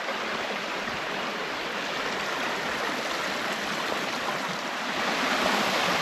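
Small waterfall on the Kempt Falls trail in Ristigouche Sud-Est, Quebec, giving a steady, dense rush of falling water that stays loud and close throughout, with no voices.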